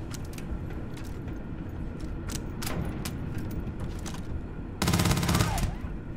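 Gunfire in a Starfield fight pops in scattered, fairly soft bursts, then a louder, heavier blast hits near the end, with faint speech in the background.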